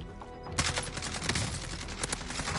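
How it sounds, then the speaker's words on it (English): Dense gunfire from several players shooting each other in a Warzone Season 3 three-way endgame fight, rapid overlapping shots and bursts following a quieter opening half second, loud and continuous with no talk. "They're shooting each other."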